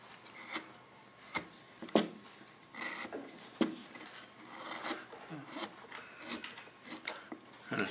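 A gouge rounding off a carved wood figure in a carving class, the slightly dull blade making short, irregular scraping strokes, close and fairly quiet with small pauses between cuts.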